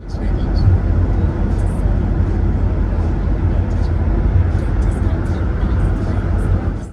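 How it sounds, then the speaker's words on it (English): Road noise inside a Tesla Model Y cabin while driving, a car with 60,000 miles, comes through as a loud, constant low rumble and roar, with a voice faintly present over the steady drone. "the general cabin noise or road noise that comes through the vehicle"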